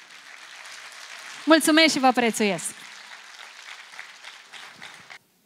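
A concert audience applauds a folk orchestra and singer at a stage show in Mioveni, Romania: a soft, diffuse clapping texture runs beneath a brief spoken phrase from a man on stage and continues faintly afterward before stopping abruptly.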